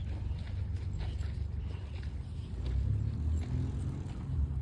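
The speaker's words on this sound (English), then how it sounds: "See, come say hi to these horses." Horses standing at a riverside park in the Phoenix area shuffle their hooves in faint, irregular clip-clops beneath a steady low rumble of wind and outdoor noise.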